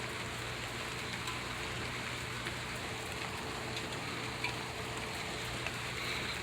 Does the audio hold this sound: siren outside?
no